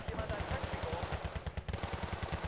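Automatic gunfire in the strategy game Wargame Red Dragon, a rapid, evenly spaced stream of shots at moderate volume that runs without pause through the short stretch.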